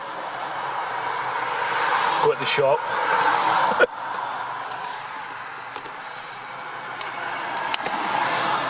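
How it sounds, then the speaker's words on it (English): Constant roar of passing traffic on a dual carriageway, steady and fairly loud with occasional louder vehicle swells, under a man's speech. "Sorry if you can hear the traffic. I'm on the dual carriageway."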